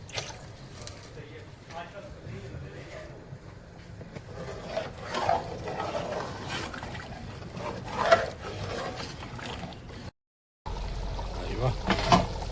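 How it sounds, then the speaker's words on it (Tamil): Water pours and trickles into a pot of beef biryani, a soft steady splashing under frequent talk nearby, broken by a brief cut near the end. "தண்ணி ஊற்றி ஆகுதுண்ணே"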